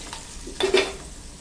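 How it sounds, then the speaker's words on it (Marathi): Peanuts and grated coconut tempered with turmeric in hot oil are stirred briefly, giving a short burst of sizzle and spoon scraping in the pan, close and fairly quiet, then a low steady fizz. "आणि हे छान हलवून घ्यायचं। ही फोडणी आहे आपली।"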